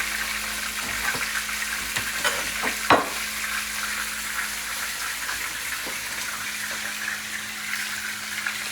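A pot of stew with onion, tomato and pimento cooking on the stove, giving a soft, steady simmering hiss with occasional light clinks and one sharper knock.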